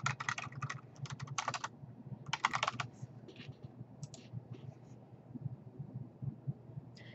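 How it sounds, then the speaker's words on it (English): A keyword is typed on a computer keyboard into a library document search box, producing a few quick bursts of soft key clicks separated by pauses over a steady low background hum, close and quiet. "then you can type that keyword there."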